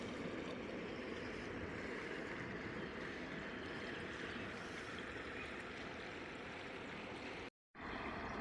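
A river flows just north of Karlovac, a steady broadband rush of moving water holding evenly throughout, with a brief dropout near the end and no voices.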